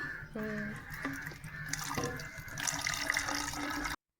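Water runs and splashes close by, a steady pouring stream that cuts off abruptly at the end.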